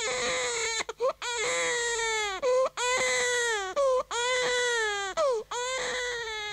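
A baby cries loudly in a children's narrated story about Moses, giving repeated long, strained wails broken by short gasping pauses, close and alone with no talking.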